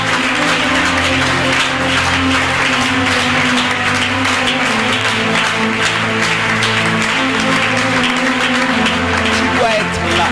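Sunday church service with the congregation applauding and acclaiming, continuous dense clapping blended with music and voices, loud and unbroken throughout.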